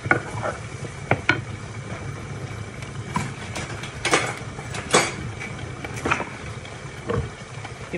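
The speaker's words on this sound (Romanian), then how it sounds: "Amestecă totul bine." Sour cream and mustard sauce is stirred in a frying pan, a spoon scraping and clicking against the pan in irregular strokes over a soft background hiss, with no talking.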